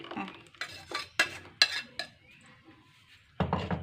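Ground curd mixture stirred in a pot, with several sharp clinks and scrapes of a spoon against the vessel in short bursts separated by pauses, close and fairly quiet.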